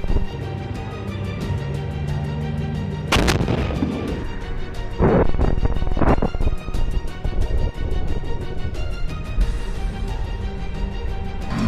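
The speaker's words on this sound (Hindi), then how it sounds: "जैसे ही आईडीएफ का टैंक वहां आता है वैसे ही बारूद में ब्लास्ट हो जाता है" Explosive charge detonating as an IDF tank arrives in a street in Rafah or Khan Yunis, heard as loud booming bursts and sharp blasts over a continuous rumble of battle noise, with no talk.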